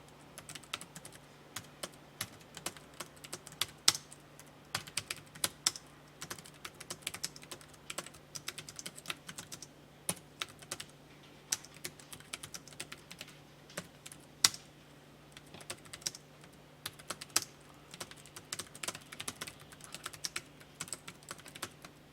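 Someone types on a computer keyboard, producing quick, irregular bursts of light clicks and occasional heavier key strikes, close and quiet against a faint steady hum, with no talking.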